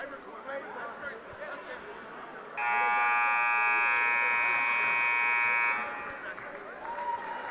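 A loud, harsh basketball gym buzzer at a high school game blares steadily for about three seconds over a noisy crowd, then cuts off as the chatter continues.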